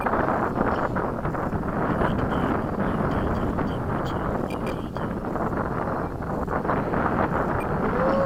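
Strong gusty wind buffets the microphone at a model airfield, a loud continuous roaring rumble throughout with no clear talk over it.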